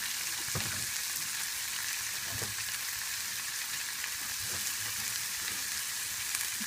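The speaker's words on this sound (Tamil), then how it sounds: "இந்த கட் பண்ணி வச்சுருக்க தக்காளியை இதில் போட்டுருணும்." Chopped tomatoes sizzle and fry steadily in a hot pan, a continuous close hiss with occasional louder bubbling pops and soft stirring, no talk over it.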